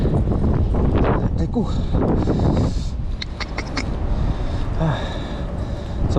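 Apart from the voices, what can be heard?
strong wind outdoors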